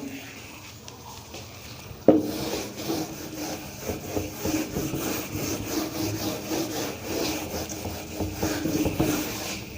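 A board being rubbed clean during a maths lesson: a steady scratchy rasping that starts abruptly and carries on evenly for several seconds, close and fairly loud, with no talking.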